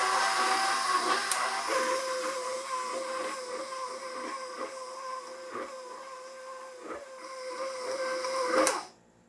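A stand mixer kneads babka dough after salt is added, a steady mechanical whir with a faint rhythmic knocking repeating about every half second, running loud and continuous until it cuts off at the end.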